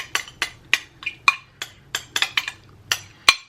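Crab cake ingredients tipped into a mixing bowl, giving a run of about fourteen sharp, light clinks and taps at an uneven pace, close and fairly quiet, with no voices.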